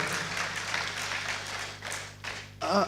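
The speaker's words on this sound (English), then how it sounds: "Please a round of applause for him." Audience applause at a plenary session of a conference, steady and moderately close, thinning at the end as a voice starts to speak.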